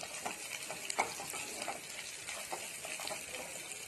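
Whole spices, a green chili, bay leaf and onion fry in a pan with a soft, steady sizzle, while a few light clinks from a stirring spoon stand out now and then.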